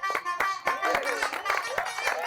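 A handful of people clap in quick, uneven bursts during a lively Telugu TV game show, sharp close claps with faint voices mixed in.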